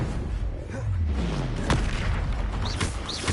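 Confringo fire spell blasting in Hogwarts Legacy, a booming explosion over dense game combat noise with a sharp crack midway and a couple of whooshing spell sounds near the end.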